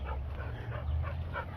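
Newborn puppies on a family farm whimpering softly in repeated short, high cries over a steady low rumble, close by with no talking.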